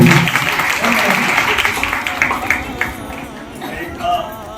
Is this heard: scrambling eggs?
no